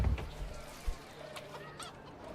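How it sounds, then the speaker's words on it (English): Chickens cluck in the medieval village-building game Manor Lords, a short burst of fowl calls over a soft ambient game background with no talking. "Chickens. Oh, that's right. They are making chickens."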